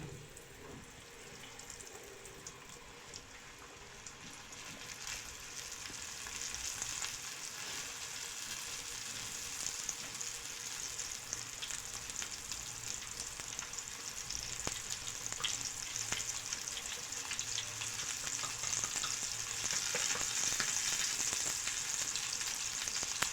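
Floured fish fries in hot oil on a gas stove, giving a steady, crackling sizzle that continues without a break and swells slightly as it goes on, quiet and unaccompanied by voices.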